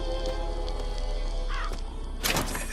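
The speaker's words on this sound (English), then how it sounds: "the crows are basically bees from the original Bioshock" Crows cawing in the video game Bioshock Infinite: a few harsh caws rise briefly over a dense, steady game soundscape, ending in a louder burst of noise.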